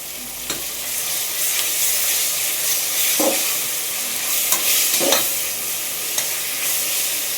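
Ginger garlic paste fries in a pan for cooker tomato rice, giving a steady close sizzle broken by a few sharp scraping stirs, with no talking.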